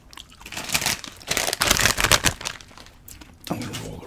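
Hard candy being crunched and chewed right up close, with loud, uneven bursts of cracking and crinkly grinding that come in waves over a few seconds, then a brief pause before more chewing.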